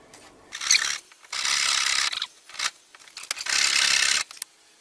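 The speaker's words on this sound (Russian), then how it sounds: "Взял ножовку и ножовкой теперь." A hacksaw cuts through a wooden window frame in rough back-and-forth strokes, several rasping bursts of uneven length separated by short pauses, close and loud with no talking.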